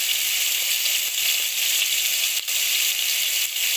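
Steady, loud sizzling of pork ribs frying in hot oil in a pan, a continuous crackling hiss with a few brief dips.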